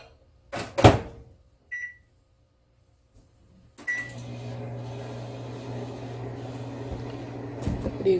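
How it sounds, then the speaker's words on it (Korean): A microwave oven heating refrigerated rice: a few clicks and a short beep as it is set, then the steady low hum of the running oven with faint rattles, close by and without talk. "요거를 전자레인지에다가 돌려줍니다"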